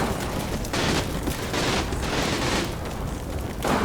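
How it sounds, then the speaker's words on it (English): Gunfire crackles through a World War II firefight in the strategy game Combat Mission Final Blitzkrieg: dense overlapping rifle and machine-gun bursts with heavy booms, loud and continuous, surging in repeated waves without any talk. "we are winning the firefight"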